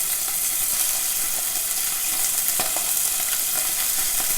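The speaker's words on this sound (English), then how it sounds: "now we are just going to sear this meat" Pork tenderloin searing in grapeseed oil in a hot pan, a loud steady hiss and crackle of frying with a few sharper pops and light clicks, close and continuous, no voices.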